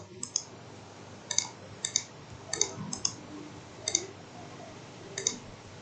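Mouse clicks while building a remote-control car model in SketchUp. The clicks are sharp and fairly quiet, spaced irregularly about a second apart, with no talking over them.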